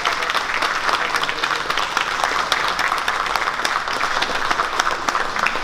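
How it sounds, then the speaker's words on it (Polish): An audience at a police traffic officer awards ceremony applauds a first-place winner, producing steady, even clapping from a large crowd that carries on at a constant level throughout. "Wielkie brawa dla niego."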